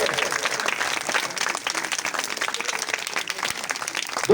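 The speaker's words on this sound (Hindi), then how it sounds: "इन सभी साथियों का जोरदार ताली से स्वागत करें। तालियां बंद नहीं होनी चाहिए।" A crowd at a Buddhist religious gathering gives sustained, dense applause as guests are welcomed onto a stage, steady clapping that continues throughout.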